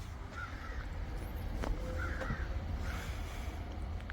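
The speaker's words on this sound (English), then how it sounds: "Can you hear the birds in the background?" Crows caw a few times at a distance over steady outdoor background noise, with no talking.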